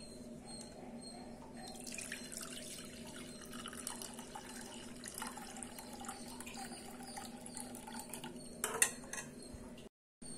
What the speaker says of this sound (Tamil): இப்போ இந்த தேங்காய் பாலை ஒரு பவுலில் நான் மாற்றிக்கிறேன்.